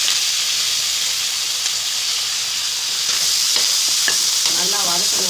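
Garlic, onion and curry leaves fry in a pan with a pinch of asafoetida, a loud constant sizzling hiss with stirring scrapes that grow busier in the last couple of seconds, with no voices.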